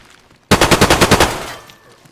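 A loud, close burst of about eight rapid shots fired through a wall in a first-person shooter video game, starting abruptly and then fading into a short echoing tail.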